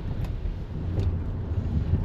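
A soft, steady rush of cool wind in New Zealand buffets the microphone, with low rumbling gusts and no voices.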